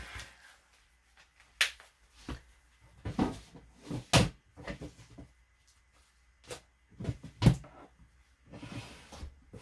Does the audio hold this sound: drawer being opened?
yes